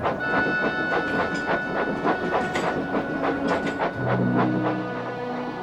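A work train rolls into a goods yard on a foggy night, its wheels clattering over rail joints in a steady, continuous clickety-clack, with sustained tonal ringing rising toward the end.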